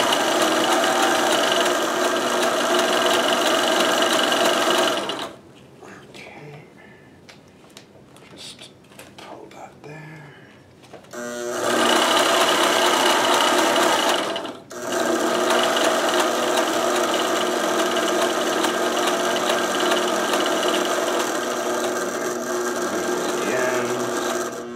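A sewing machine stitches a 3D printer cover in two long, loud, steady runs of fast mechanical whirring close up. Between the runs there is a quieter stretch with handling noises.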